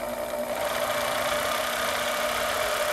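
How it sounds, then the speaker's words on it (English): A portable band saw cuts through aluminum sheet metal with a steady, continuous mechanical whine and buzzing drone, close and fairly loud, with no talking. "here I'm using a porta band instead of my vertical bandsaw"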